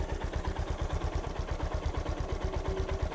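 Honda CB350 motorcycle engine running at a steady idle, a rapid even low thumping pulse with mechanical clatter, close and continuous with no talk.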